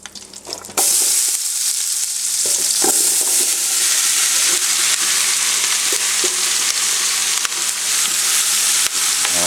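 Onions for smothered chicken drop into a hot pan with a sudden loud sizzle that settles into a steady, crackling fry, with faint stirring clicks and no speech.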